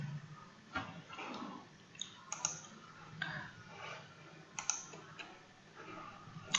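Scattered keystrokes of someone typing Python code on a computer keyboard, quiet and fairly close, coming in short bursts with small pauses between taps.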